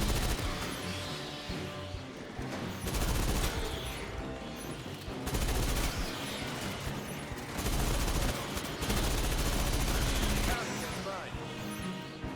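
Smart gun firing in Aliens: Fireteam Elite 2 on PS5 Pro, a dense, steady stream of automatic shots with heavy low booms, mixed with game sound and voices talking over it.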